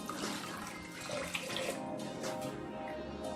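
Mineral water being poured into a glass makes a continuous splashing, gurgling stream, close and fairly loud, with no talk over it.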